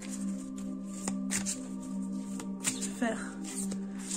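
Tarot cards being shuffled by hand in soft, repeated riffles and slides, close and fairly quiet, under a woman's speech and a steady background hum.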